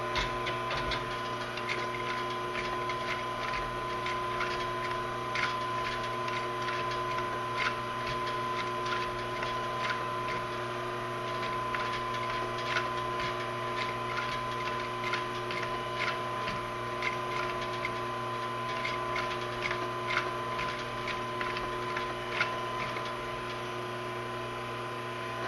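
Steady mechanical clatter of a sewing machine stitching through a leather tote bag panel, a continuous fast ticking rhythm with a constant motor hum underneath, close and moderately loud, no talking.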